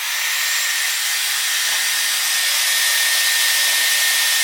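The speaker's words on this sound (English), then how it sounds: "I'm just going to put it on the hottest setting and the highest fan speed and see how long it takes to dry my" A Babyliss Keratin Smooth hot air styler blows at its hottest setting and highest fan speed while drying hair, a loud, steady whoosh of air with a constant whine and no pauses.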